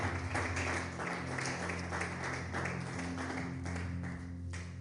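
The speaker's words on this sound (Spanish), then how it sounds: "Dile un fuerte aplauso a Cristo con todo su corazón" Congregation applauding during a Spanish-language church service, a steady dense patter of many hands over a sustained hum, with faint voices underneath.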